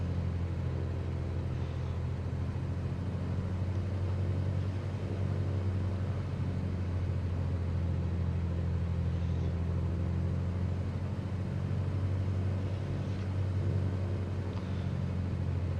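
During a run-up in Microsoft Flight Simulator, a Cessna Skylane 182 RG II engine holds a constant low, droning hum with no change in pitch or level.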